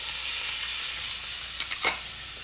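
A pan sauce of capers, butter, lemon juice and white wine simmers with a soft, steady sizzle, a few sharper pops and bubbles rising near the end, close and quiet with no voices.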